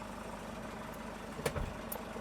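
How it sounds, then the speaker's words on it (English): A high-mileage van's engine, around 238,000 miles with the check engine light on, idles steadily with a low, even hum, joined by a few brief clicks and knocks near the middle. "So the engine is running"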